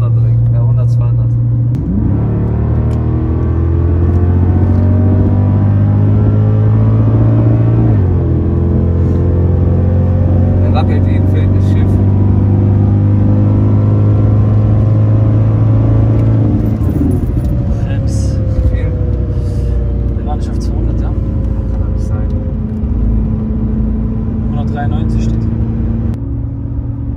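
A 525 PS Mercedes-Benz C216 CL63 AMG accelerates hard from inside the cabin in sport mode, its engine roaring loudly and rising in pitch through several upshifts, with people talking over it.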